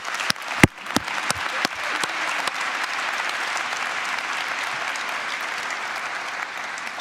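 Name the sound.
audience applause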